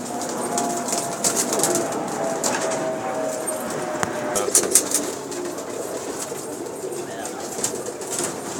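Pigeons coo softly among flapping and rustling in a loft setting, with scattered sharp clicks and a steady background hum throughout.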